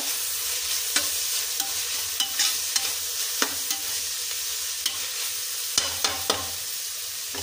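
Vegetables frying and being stirred in a pan while making bread pizza, a steady sizzle broken by sharp scrapes and clacks of the spoon at irregular intervals, close and alone.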